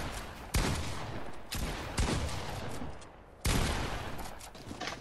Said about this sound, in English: Hold on, they're shooting me.